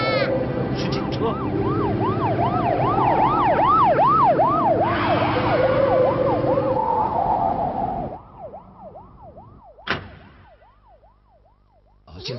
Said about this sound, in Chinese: 是警车。